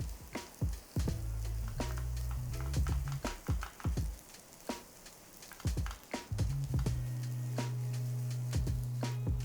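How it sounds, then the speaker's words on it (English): Fried rice with egg, garlic and scallions sizzles in a hot pan, a steady frying hiss broken by repeated scraping and tapping of a utensil stirring and breaking up the rice. "let that cook with the garlic and scallions and break the egg whites up and mix it into the rice"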